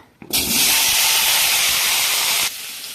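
Potato and cauliflower pieces drop into hot oil already holding fried cumin seeds, setting off a sudden loud, close sizzle that holds steady for about two seconds and then eases to a lower hiss.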